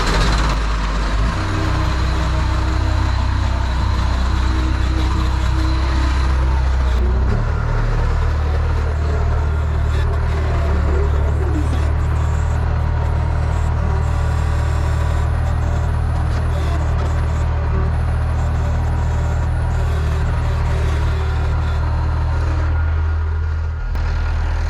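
A loader works near a flatbed trailer it is tilting and dragging out without a truck, its diesel engine droning loud and steady at close range throughout, with a rough low rumble and no voices.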